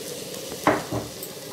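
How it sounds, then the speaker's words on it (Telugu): Ingredients for baghara rice fry in a pan with a steady low sizzle, broken by a brief scrape or clink of a spoon stirring, close and moderate in level. "ఇది పచ్చి వాసన పోయేంత వరకు ఫ్రై అవ్వాలి"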